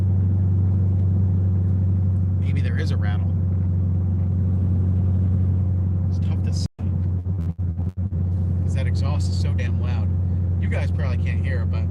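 A TreeL1 car driving on the road, with a loud, steady low exhaust drone filling the cabin and a brief dropout partway through. Someone talks over the drone for much of the time.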